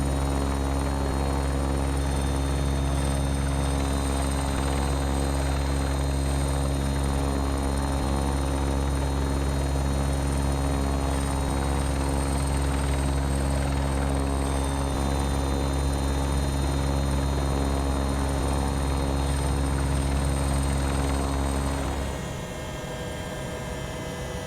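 A helicopter flies toward a helipad near a home, giving a loud, steady rotor and turbine drone with a constant whine that holds for most of the stretch, then drops off sharply near the end; no one speaks.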